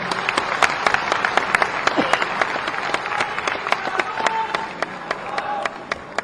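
An audience at a Chhattisgarh Beverages Corporation office-assumption ceremony bursts into sustained applause, with crisp individual claps cutting through a steady crowd wash from start to finish.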